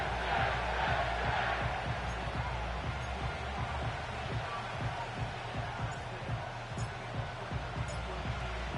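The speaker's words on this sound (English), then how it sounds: "The crowd is definitely ready." Stadium crowd noise in an EA Sports football video game, a low, constant roar of many voices with some thumping, fairly quiet and heard under commentator talk.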